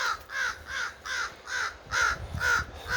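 Repeated loud crow caws in a steady rhythm, about six calls over three seconds, near and clear above a low rumbling background.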